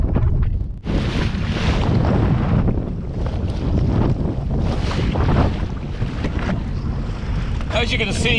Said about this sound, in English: it's quite choppy in here. We're just sloshing around.